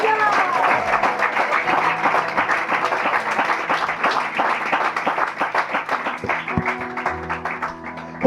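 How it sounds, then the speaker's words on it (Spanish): A church congregation applauding at a Spanish-language evangelical preaching service, with sustained dense clapping throughout, loud and close, and a voice speaking over it. "Denle un fuerte aplauso al Señor."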